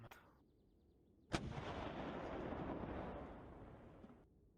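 A faint click, then a sharp, powerful gunshot as a bullet is fired through armor into stone, its blast rolling into a sustained rumbling roar that lasts nearly three seconds before cutting off.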